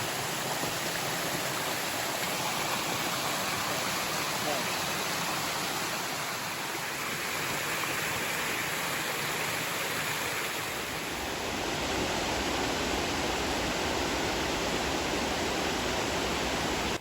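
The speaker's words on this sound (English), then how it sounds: "I took some film of the different waterfalls." Waterfalls along a foothills hiking trail pour in a steady, broad rush of falling water that stays constant and fairly close throughout, with no voices over it.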